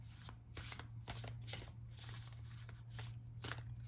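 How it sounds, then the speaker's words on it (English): A deck of oracle cards is shuffled by hand, making quiet, close bursts of riffling and slapping in a steady rhythm with no talking. "let's get some more oracle cards"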